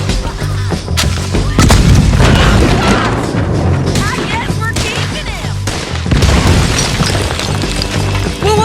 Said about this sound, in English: A little dynamite, mostly for the video. Explosions are cinematic.